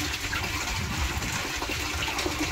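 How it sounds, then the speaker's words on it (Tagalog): Natural spring water from a mountain source in Barangay Bacong gushes out strongly, a steady, loud rushing and splashing that fills the whole short stretch without talk. "Yan o, lakas ng bukal ng tubig na lumalabas."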